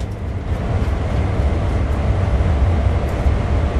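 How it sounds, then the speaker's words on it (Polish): Heavy locomotive pulling away from a standstill in the train simulator game Train Sim World 2, a steady, loud low-pitched rumble with engine drone that holds evenly throughout, with no talk over it. "Ciężka lokomotywa ruszyła."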